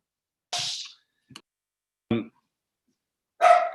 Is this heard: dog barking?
yes